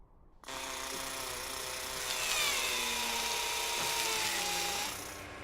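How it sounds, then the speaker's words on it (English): A Mars rover's arm drill starts abruptly and grinds into rock at a steady high whine for several seconds, pitch shifting slightly as it bores in, then eases off. "The drill on the arm allows us to grab some of that rock"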